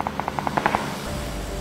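Automatic gunfire from the video game PUBG: a quick run of about nine sharp shots in under a second, fairly close and loud, followed by lingering low rumble and ambience.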